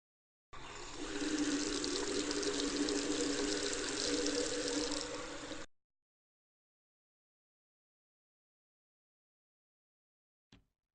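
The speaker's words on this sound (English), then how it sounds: "Now, it's time to wash your hands." Water from a tap runs in a steady, close gush for about five seconds while hands are washed, then cuts off into silence except for one faint click near the end.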